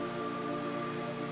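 Steady rain from the Metal Gear Solid 3 video game, a constant soft hiss of falling drops under a sustained tonal hum, with no speech.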